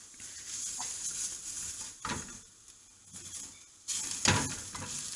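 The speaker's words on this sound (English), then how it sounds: "Stir the garam masala for 1 minute." Garam masala being stirred in a hot cooking pot for a liver curry: steady sizzling and frying hiss, broken by a few louder scraping strokes of the spoon, close and fairly quiet.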